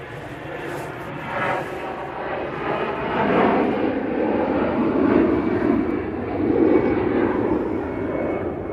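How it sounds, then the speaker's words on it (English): An easyJet Airbus A320 jet departing Manchester Airport, a loud broad engine roar that swells and builds over several seconds as the aircraft passes, with no clear talking. "EasyJet A320 to Geneva."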